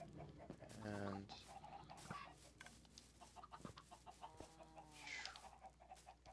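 Minecraft chickens clucking in a video game, with bursts of fowl calls standing out near the start and again near the end over a busy background of game sounds and low voices.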